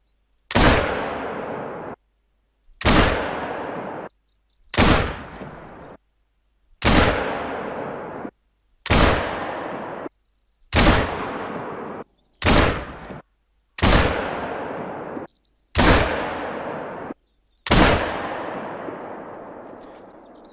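Ranger .243 rifle in theHunter: Call of the Wild fires ten loud, sharp shots at range targets 300 meters out, evenly spaced about two seconds apart, each crack trailing into a long echoing decay before silence.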